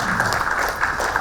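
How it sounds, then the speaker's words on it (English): An audience at a business leadership talk applauds in a steady, dense burst of clapping that fills the room throughout. "Can we give a big round of applause for Grandma Money?"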